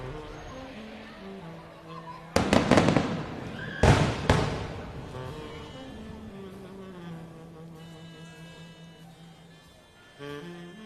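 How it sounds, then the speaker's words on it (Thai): A royal tribute fireworks and drone show in Thailand honoring Princess Sirindhorn, with a few loud, sharp bursts cracking and crackling in quick succession over a distant rumbling crowd and tonal hum. "นี่คือความยิ่งใหญ่ของการแสดงพลุและโดรนเทิดพระเกียรติกรมสมเด็จพระเทพในชุดที่ 2"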